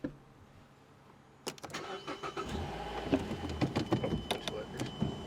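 A car engine cranks and catches after a quiet pause, then runs on with an uneven idle and clicking, close by, with faint voices under it.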